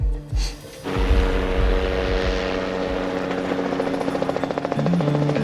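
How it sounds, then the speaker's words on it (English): A helicopter flies overhead outdoors, its loud droning rotor and engine noise rising after a brief lull and then holding steady with a faint rhythmic chop. "What do you think that chopper is doing, Guy?"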